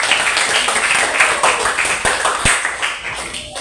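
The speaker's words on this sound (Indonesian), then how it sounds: "Tepuk tangan untuk kita semua." A classroom of students claps together, a brisk, dense patter of hands close by with a couple of sharper slaps, lasting a few seconds.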